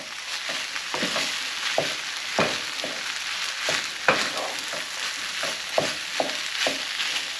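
Rice frying in a pan, a steady sizzle broken by repeated scraping and stirring strokes at an uneven rhythm, close and moderately loud, with no talking.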